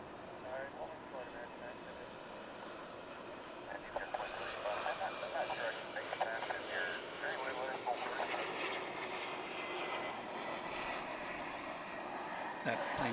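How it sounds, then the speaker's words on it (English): Distant airplane engine roar from an aircraft on approach to land on runway 18 right at DFW International Airport, a steady broad rushing drone that grows slightly louder, with voices talking over it. "a plane which is just coming in now to arrive on 18 right"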